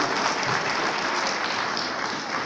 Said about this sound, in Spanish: Ese es un aplauso para ustedes.